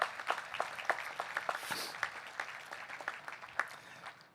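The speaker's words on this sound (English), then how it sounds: "Let's give them a round of applause too." Outdoor commencement crowd applauding on a college field, a dense, sustained patter of clapping with sharper individual claps standing out, moderately distant and fading slightly toward the end.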